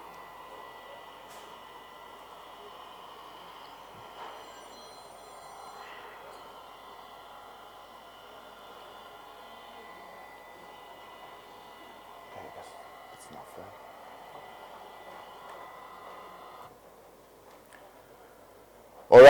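A rail grinding machine grinds along railway track, giving a steady, droning mechanical whir with tonal hum that holds at a moderate level throughout before cutting off near the end.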